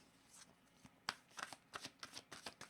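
Oracle cards being shuffled by hand, a quiet run of crisp riffling flicks in an uneven rhythm, close and soft, with no voice over them.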